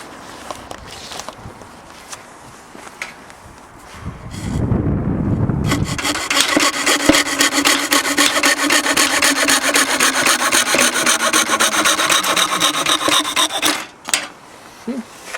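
A sharp chisel trims a wood piece for a front door, with quiet scraping at first, then a brief rough rasp and a long, steady, loud rhythmic rasping cut that stops abruptly near the end.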